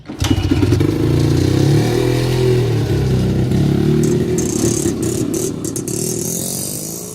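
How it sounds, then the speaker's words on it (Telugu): Vintage 1975 SD motorcycle, forty-five years old and somewhat rusty, running loud and close with a chugging engine beat that rises and settles, plus some rattling clatter toward the end. "vintage SD bike 1975 model 45 years old కదా కొంచెం రస్టీగా ఉంటుంది"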